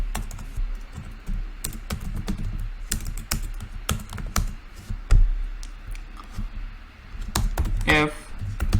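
Close keys clatter in irregular bursts as code is typed on a computer keyboard, with sharp individual taps and a brief pause partway through.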